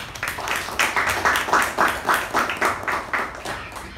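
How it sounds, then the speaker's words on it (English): Applause from a small Toastmasters club meeting audience, a close, rhythmic run of claps in regular bursts that stays steady for about four seconds. "big round of applause for the table Master of Ceremony, Toastmaster Prashant"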